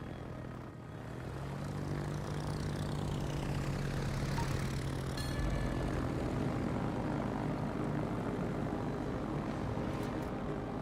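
Carrier aircraft engines drone in a World of Warships naval battle, a steady propeller hum that swells and holds loud throughout, with engine pitch shifting as planes pass.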